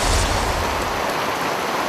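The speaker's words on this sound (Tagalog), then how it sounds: "Ginising ng malakas na buhos ng ulan kaninang umaga" Heavy morning rain pours down in Mamburao, Occidental Mindoro, a dense, loud, continuous hiss of water on surfaces with a deep rumbling undertone and no voices.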